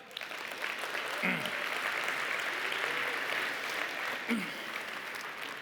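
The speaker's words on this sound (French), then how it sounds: "Fait peut-être une bonne main d'applaudissements pour ça" An audience at an Agile Tour conference session in Québec gives a sustained round of applause, even and continuous at a moderate distance, with faint voices mixed underneath.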